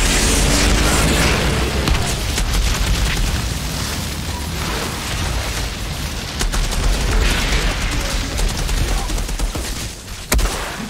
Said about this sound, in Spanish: ¡Muchos disparos!